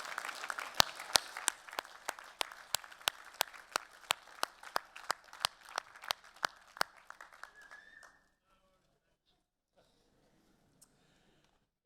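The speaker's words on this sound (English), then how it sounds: "join me in a round of applause to say thank you to all those who've helped you achieve your award" A graduation ceremony crowd claps for about eight seconds, with loud, evenly spaced claps standing out above the general applause before it stops abruptly into near silence.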